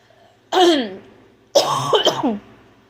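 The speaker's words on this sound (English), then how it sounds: "coughing" Two harsh coughs, close and loud, the second longer and rougher with a raspy, throat-clearing tail.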